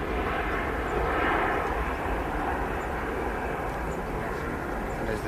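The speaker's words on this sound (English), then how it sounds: "the Jet2 rotates" A Jet2 airliner rotates on takeoff at Manchester Airport, its engines a loud, steady, broadband roar that fills the whole clip without a break.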